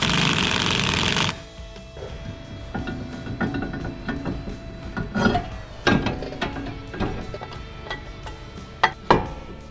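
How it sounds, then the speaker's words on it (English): A strut nut is tightened on a 2020 Mustang GT during a lowering spring install: a brief loud power tool burst opens, followed by scattered ratcheting clicks, metallic taps and knocks close by. "let's go ahead and get this strut nut tightened"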